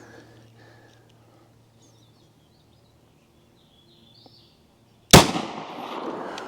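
A single sharp, loud 9mm shot from a 4.5-inch P80 pistol loaded with Defiant Munitions TCX-SDH cracks after several seconds of quiet outdoor ambience, followed by a decaying echo.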